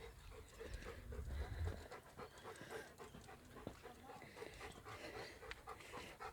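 A dog pants rapidly and rhythmically close by on a walk to an oval, the quick breaths continuing throughout with some rustling and faint movement around it.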